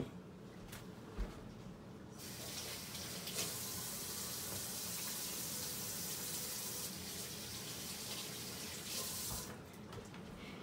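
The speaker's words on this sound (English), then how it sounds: "Now I'm going to wash my hands quick." Tap water runs into a kitchen sink as hands are washed, a steady close hiss and splash that shifts in brightness as the hands move under the stream, with no talking.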